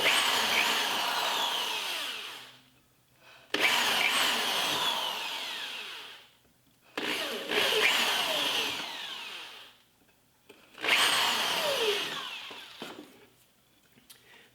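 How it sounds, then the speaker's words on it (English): A power drill pre-drills into wood near the edge in four bursts, each a whirring grind that tapers off, separated by brief pauses. "that'll allow me to pre-drill into here to avoid any splitting"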